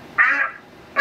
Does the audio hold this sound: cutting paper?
no